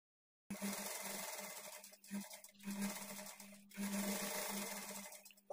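A domestic sewing machine stitches a blouse seam just past the attached sleeves, running in steady bursts with brief pauses, its close motor hum and rapid needle clatter heard alone.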